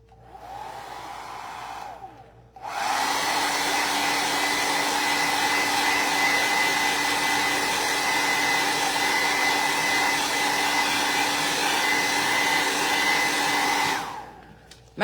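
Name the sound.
hair dryer blowing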